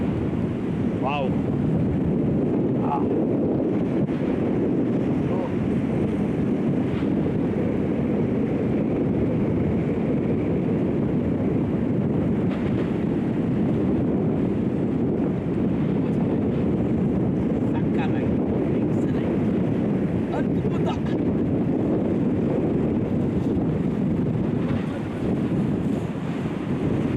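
Sea waves and wind on the shore at Dhanushkodi, a constant heavy roar of surf and gusting air buffeting the microphone for the whole stretch, with no clear breaks.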